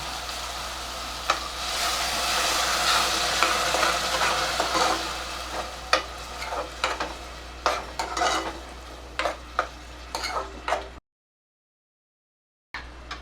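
Onion and raw tomato purée cooking in a pan for a restaurant-style potato and green pea curry, a soft continuous sizzle with intermittent stirring clinks and scrapes, then a brief silence before sizzling resumes.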